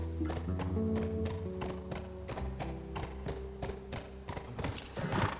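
A horse gallops in The Last of Us video game, its hooves beating a fast, regular clip-clop over a low rumbling game soundscape, loud and steady throughout.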